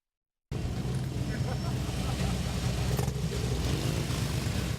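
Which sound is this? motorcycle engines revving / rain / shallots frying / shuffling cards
motorcycle engines revving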